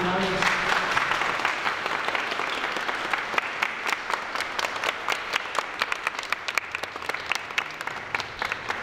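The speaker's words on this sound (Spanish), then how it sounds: "vamos a dar un aplauso a Melanie, por favor" Guests at a quinceañera celebration in a small Mexican village break into a broad round of applause, with close, crisp claps peppering the dense crowd sound and the clapping growing sparser and more scattered toward the end.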